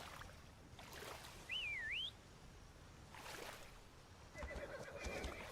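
A horse in the Windrose pirate video game gives a brief, high, wavering whinny over faint rushing ambience, followed later by soft thumps and a thin tonal whistle.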